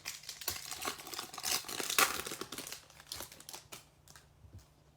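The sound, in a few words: opening Topps Chrome baseball card pack wrappers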